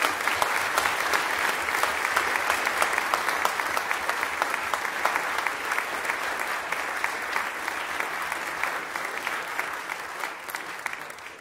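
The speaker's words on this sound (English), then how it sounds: "please give them a round of applause" Sustained audience applause at a school symphony orchestra's armistice concert, a dense steady clapping from a large crowd lasting throughout and fading slightly toward the end.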